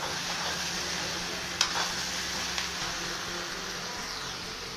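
Onions frying in a pan for a chicken dish, giving a steady broadband sizzle throughout with one brief sharp clink of a utensil and a fainter one later, no talking.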